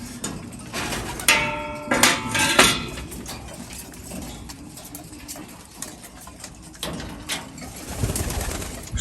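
Pigeons coo close by in repeated throaty bursts, with clinks of dishes or a water container and some ticking mixed in.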